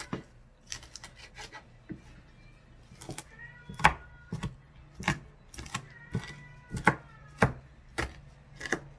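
Cabbage chopped with a knife on a board, a string of sharp, crisp cuts in an uneven rhythm, some in quick clusters and others spaced apart, close and clear with no talking.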